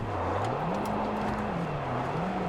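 Car engine in the video game Far Cry 5, a steady hum that rises and falls in pitch as the car drives and slides, heard alone at moderate level.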